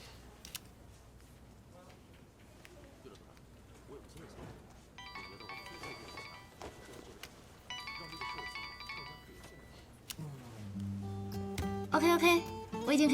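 A phone ringtone plays in a quiet indoor scene, a repeating electronic melody that chimes in two bursts and then swells louder near the end as a voice talks nearby.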